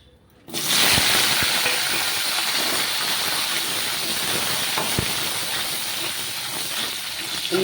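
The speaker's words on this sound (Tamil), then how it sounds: "வெண்டைக்காய் போட்டு வதக்கலாம்." Okra dropped into hot oil in a pan, a sudden loud hiss bursting in after a quiet start and then holding as a steady close sizzle, with a few small clicks.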